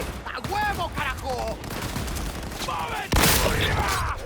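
Shotgun fire in Cyberpunk 2077, a heavy blast late in the clip following busy combat noise with whooshing effects.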